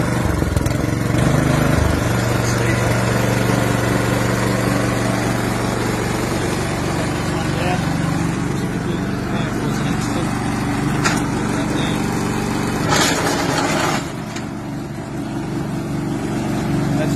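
A Honda engine on a Red Roo lawn aerator runs outdoors, a loud continuous motor drone with some clatter and a brief dip near the end.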